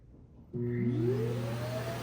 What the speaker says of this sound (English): it can automatically empty the dustbin of the vacuum